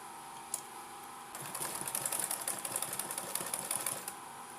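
A sewing machine stitching a corset bust cup, starting with a faint tick, then a quiet, rapid mechanical rattle running steadily for about three seconds before stopping.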